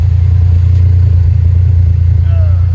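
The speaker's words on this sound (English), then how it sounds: "I think that clacking is the injectors." A 1993 Dodge Stealth RT idles loud and close, a steady low engine drone with a fast rhythmic clacking from the injectors running underneath throughout.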